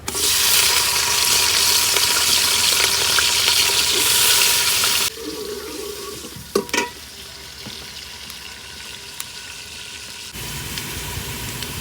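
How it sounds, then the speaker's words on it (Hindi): Onions fry in hot ghee in a pot in a village kitchen, giving a loud, steady sizzle for several seconds. The sizzle then drops to a quieter crackle, broken by a few sharp clanks of a utensil. "घी गर्म हो चुका तो अब इसमें डालेंगे हम सबसे पहले प्याज"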